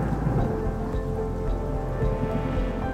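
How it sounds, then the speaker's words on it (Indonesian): Heavy rain pours steadily while thunder rumbles low in the distance, a dense unbroken storm wash with no voices. "Di kejauhan, kilat menyambar"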